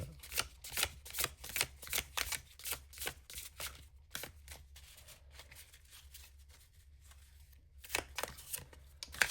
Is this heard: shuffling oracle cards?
yes